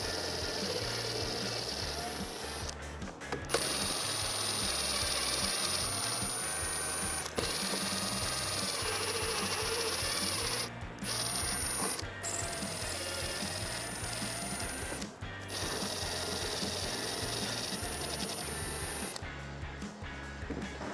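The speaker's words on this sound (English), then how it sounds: "It is a little bit easier and faster to do it with an impact just because these are pretty long screws." An impact wrench spins out long bumper screws on a Jeep Wrangler JL, a loud, steady whirring drone that runs for long stretches and stops briefly between screws.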